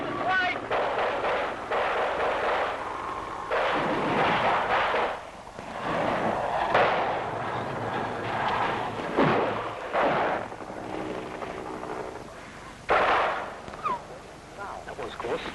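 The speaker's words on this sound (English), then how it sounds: "Still receiving sporadic small arms fire." Sporadic small arms fire and heavy booming blasts break out across a Vietnam battle zone in the Song Gnan Valley, loud and irregular, with a voice talking throughout.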